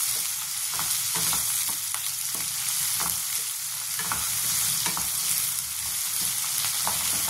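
Red onion fries over a full gas flame with a loud, unbroken hiss and crackle, punctuated by regular stirring strokes throughout, and no talking.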